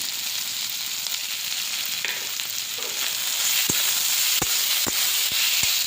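Tomato and ground chili, ginger and garlic pastes frying in oil in a pan for Bengali lote fish make a constant close sizzle and hiss, with a few sharp utensil taps and clicks toward the end.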